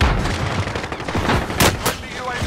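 Rapid video game gunfire cracks in a tense multiplayer firefight, a couple of sharp loud shots standing out over a dense noisy mix, with players talking over it.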